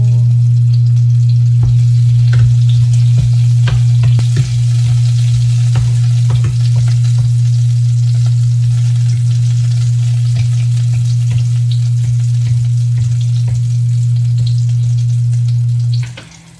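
Onion and garlic sautéing in a pan for chicken adobo, a loud, steady close sizzle with scattered clicks of stirring over a constant low hum, running unbroken before cutting off at the end.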